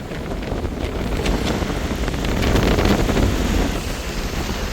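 Sea waves rolling in at the coast of Jaffna, with strong wind buffeting the microphone in a constant loud roar that swells slightly midway.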